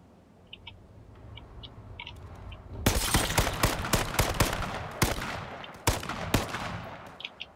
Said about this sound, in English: You got sniped, bro?